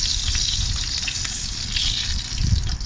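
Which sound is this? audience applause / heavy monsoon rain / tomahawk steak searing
tomahawk steak searing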